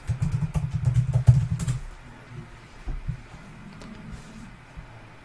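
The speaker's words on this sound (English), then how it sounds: "Let's just type in that and see where that gets us." Computer keyboard typing a search, a quick burst of close clattering keystrokes for under two seconds, followed by quieter scattered taps and soft room noise.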